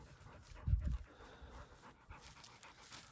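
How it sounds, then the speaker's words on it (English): A dog pants outdoors on a breezy day while RV boondocking near Sedona, a short burst of quick, close breaths over soft wind noise. "He's a good dog."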